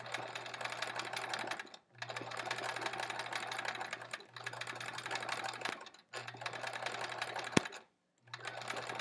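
A sewing machine runs free-motion zigzag stitching across a quilt. It comes in four long humming, rattling bursts separated by short pauses, with one sharp click near the end.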